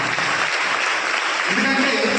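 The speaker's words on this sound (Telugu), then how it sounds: "ఫాదర్ శౌరి గారికి చప్పట్లతో మన యొక్క కృతజ్ఞతలు తెలియజేస్తున్నాం" A church crowd applauds the parish priest at a Carmel Mata shrine festival, a dense, steady wash of many hands clapping, with voices mixed faintly under it.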